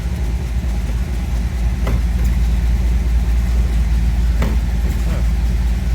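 The Bumblebee car's engine idling while up on blocks, a steady, loud, low rumble with a couple of brief clicks over it and no talk.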